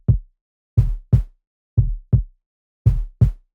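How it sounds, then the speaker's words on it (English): A second kick drum layered with brighter noise for a future garage track hits seven times in an uneven, syncopated pattern, each punchy thump carrying a short bright noisy top. The hits are close and dry, with silence between them. "I've added a little bit of brighter noise to that second kick drum"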